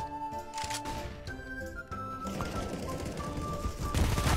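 Rapid AK rifle fire in a Counter-Strike: Global Offensive match, crackling bursts layered over tonal game music and effects, fairly close and steady throughout.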